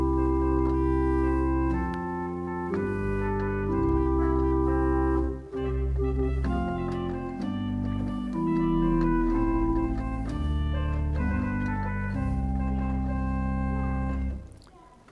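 Pipe organ sounding several stops combined as accompaniment, sustained chords and moving lines shifting steadily, loud and close with no talking, briefly dipping near the middle.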